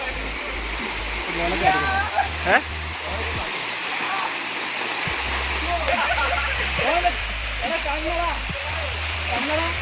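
Paloorkotta waterfall pours down steadily in a loud, continuous rush of splashing water heard from right beneath it, with voices talking over the roar at times.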